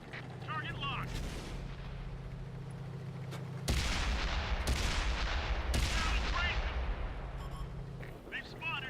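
Heavy tank cannon shots in World of Tanks boom out in a series of loud blasts, each with a sharp onset and rumbling decay, layered over a steady engine drone and intermittent game sounds.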